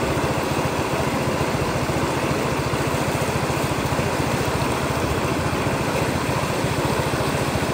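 A motorcycle engine runs steadily near at hand, a continuous low, rhythmic putter with no break or change in pace and no voices over it.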